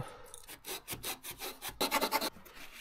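Scraping at the cut edge of a Peugeot 205 front wing being trimmed for GTI wheel-arch extensions, a close series of short rough rasping strokes, quicker and louder toward the end, with no talking.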